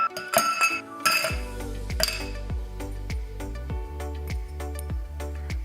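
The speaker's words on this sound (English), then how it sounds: "ice into the glass." Ice cubes clatter into a glass for a Hpnotiq, coconut rum and Red Bull cocktail, a bright rattle of clinks followed by a run of sharp, evenly spaced ringing taps, close and clear with no talking.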